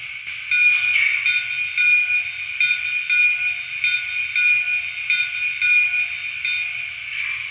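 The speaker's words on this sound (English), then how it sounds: "And let's check out the bell." A steady, rapidly repeating metallic ringing continues for several seconds at even volume, a Lionel Alaska Railroad 0-6-0T model steam locomotive bell with a low hum beneath.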